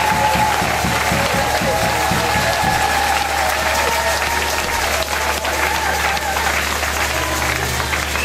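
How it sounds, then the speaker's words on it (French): A church congregation claps and cheers in loud, sustained applause, with rhythmic clapping early on and a dense crowd roar filling the room throughout. "On acclame fortement pour le Seigneur, on acclame fortement pour le Seigneur."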